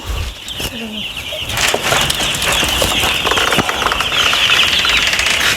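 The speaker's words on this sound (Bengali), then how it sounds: "এই যে বাক্কার ভাইয়ের শেডে এখানে আসলে আঠারোশো মুরগি দেওয়া আছে" Broiler chickens fill a poultry shed holding about eighteen hundred birds, a steady dense clucking and chirping chorus close around, with occasional rustles and wing flaps throughout.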